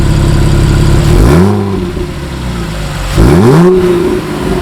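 A 2012 Porsche Boxster S Black Edition (987) engine revs hard twice with exhaust valves open, a deep, raspy exhaust rising and falling in pitch between steady idling, loud and close.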